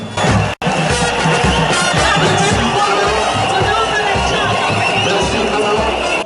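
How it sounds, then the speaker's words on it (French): A crowd at the new Omnisport stadium in Bafoussam greets two football teams walking onto the pitch with loud, sustained applause and cheering. The clamour stays dense and continuous throughout, with a brief dropout near the start. "Une apparition des deux équipes fortement saluée par une salve d'applaudissements."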